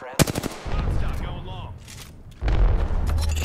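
Gunfire in the shooter game Apex Legends: a sharp burst of rapid shots opens, then a heavier sustained stream of fire returns after a lull, while a voice talks between the bursts.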